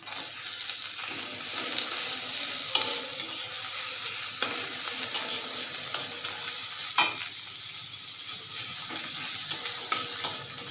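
Tomato hisses and sizzles in hot oil in a pan, the base for a thin tilapia fish curry. A spoon stirs it now and then, and clear scrapes and clinks break through the steady frying.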